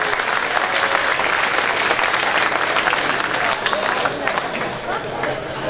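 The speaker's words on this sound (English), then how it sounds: "Let's give these guys a big round of applause." A crowd at a motorsports expo pit crew challenge applauds a team, loud and continuous clapping mixed with cheering and crowd murmur, tapering slightly near the end.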